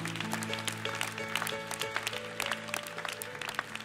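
A church congregation applauds during a French-language sermon, steady clapping filling the space over sustained organ or keyboard chords, with no voices rising above it.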